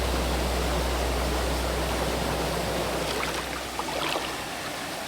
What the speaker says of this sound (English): So this end of the river ends in a mini waterfall.